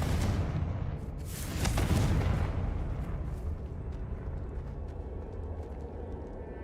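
Confringo fire-spell explosions go off in Hogwarts Legacy, a heavy, close boom swelling to a peak midway, then settling into a sustained low rumble with faint crackle as it dies down.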